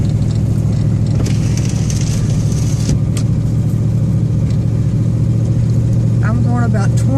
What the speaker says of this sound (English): It's 5 o'clock traffic.